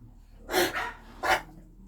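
A dog barks twice in a home workshop during a vacuum cleaner repair, two short, fairly close yaps about half a second apart over a faint background hum.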